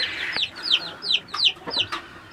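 A wild fowl, a chukar partridge, clucks in a quick series of short, close calls, about a half dozen in a couple of seconds, over light background noise.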